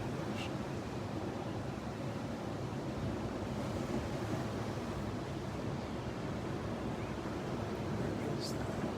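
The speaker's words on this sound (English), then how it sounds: "I'm glad you can hear the ocean." Ocean waves at sunrise produce a steady, broad wash of surf and wind noise that stays constant throughout, with no distinct breaks between waves.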